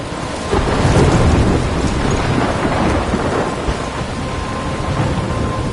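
A thunderstorm in the video game Life Is Strange, with dense, steady rain hissing and rumbling thunder rolling underneath, loud and continuous with no voices.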